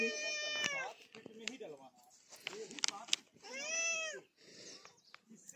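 A cat meows several times in a rural Indian farm setting, with rising and falling calls spread across the clip, fairly close, some overlapping with people talking.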